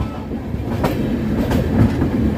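A train rolls toward Kulem railway station on the Goa line: a loud, continuous rumble with rhythmic clickety-clack of wheels over rail joints, close and steady throughout.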